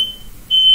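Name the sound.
smoke alarm beeping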